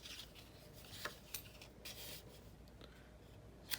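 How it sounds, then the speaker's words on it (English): Scissors snip paper corners for a handmade folio in a few short, quiet cuts, separated by faint rustling of the paper close up. "we're going to go ahead and trim out the corners here."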